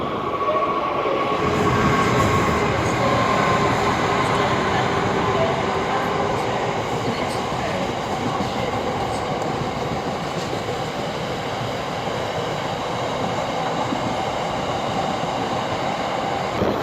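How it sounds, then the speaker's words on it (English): A Windsor-bound train pulls into a station on a line carrying services toward London and Cardiff, with a steady loud rumble and rail roar building after the first second or two and continuing without break. "well here comes the Windsor train"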